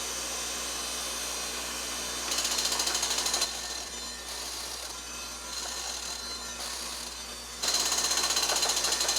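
A surface grinder dresses its magnetic chuck under manual table feed, giving a steady close machine drone with a high whine, broken by louder grinding passes at the start and near the end.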